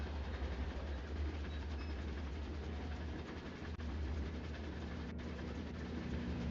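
A steady low rumble of trains rolling along in the Trainz 2 train simulator game, with constant engine drone and track noise filling the background, no voices.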